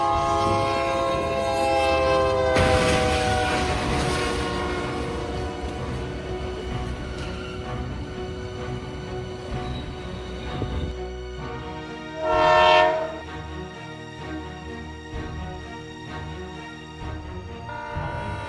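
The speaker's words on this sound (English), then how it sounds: "The train braked suddenly" A train sounds a long, loud horn over steady rumbling rail noise, followed by a brief high screech of braking; no talk.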